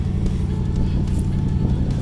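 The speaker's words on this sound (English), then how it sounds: "there's the old 65 T-Bird running convertible" A 1965 Ford Thunderbird convertible idles steadily up close, its engine giving a continuous low rumble with a slight uneven pulse.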